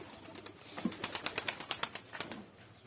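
Pigeons, including homing pigeons, flapping their wings in a rapid burst of about a dozen soft, rhythmic wingbeats, faint and close, with no talking.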